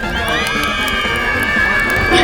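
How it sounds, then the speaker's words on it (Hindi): Panicked crowd screaming and shouting amid a circus fire, a dense wall of overlapping high-pitched cries that stays loud and steady throughout. "चीख पुकार हो रही थी"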